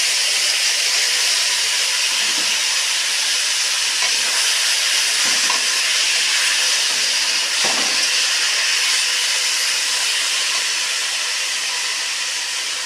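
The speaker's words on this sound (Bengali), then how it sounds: "এখন আমি এই চাল কুমড়াগুলো ঢেলে দেব।" Ash gourd pieces sizzle loudly and steadily in a hot pan, a dense continuous hiss with a few soft clatters as pieces settle, close and without talk.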